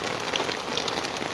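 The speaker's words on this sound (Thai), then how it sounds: "ท่ามกลางสายฝนติดตกโปรยปลายลงมานะตอนนี้" Steady rain pouring down outdoors at a ceremony venue, a dense, even hiss of drops on surfaces filling the whole moment, loud and continuous with no voices.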